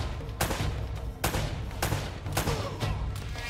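Repeated gunfire in Uncharted: Drake's Fortune on PS4: five loud, sharp bursts about half a second apart, each trailing a short echo over a steady low rumble of game ambience.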